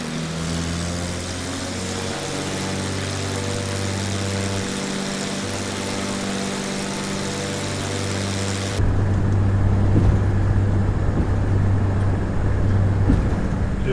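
Engine of a propeller aircraft in a flight simulator game surges during the takeoff roll, a steady droning hum with layered tonal harmonics that becomes louder and rougher near the end, no talking over it.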